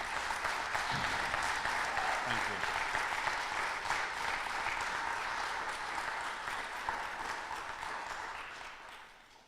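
An audience at a community event for Project Malachi in Redbridge gives a round of applause that is steady at first and slowly fades out. There is a brief spoken word near the end.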